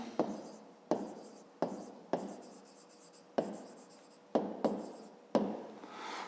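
Pen writing by hand in a school notebook, a steady scratching in repeated strokes with short pauses between words, close and fairly quiet.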